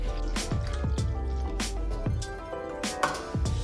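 Water poured into a bowl for Taiwanese omelette batter, giving repeated dripping, plopping splashes at an uneven pace, close and fairly quiet with no voice.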